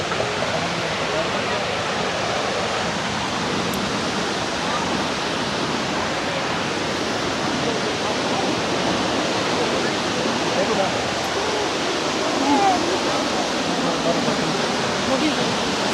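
Waterfall in Flåm, Norway, heard as a loud, steady broadband rush of falling water close by that lasts throughout with no change.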